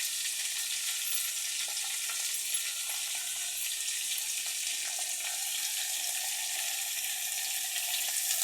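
Eggplant frying in hot oil for biryani, a steady close hiss and sizzle that holds evenly throughout with faint clinks and stirring underneath.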